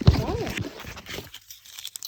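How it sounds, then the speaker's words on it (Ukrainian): A plastic bag rips with a brief crinkly tear at the start, then fades under a voice and quiet handling noise. "Я еще порвала пакет."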